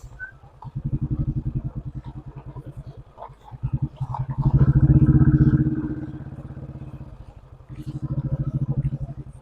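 A motorcycle travels over a badly damaged, rain-ruined road, its engine throbbing in uneven surges as the rider throttles carefully, with rattles and bumps from the rough surface close up.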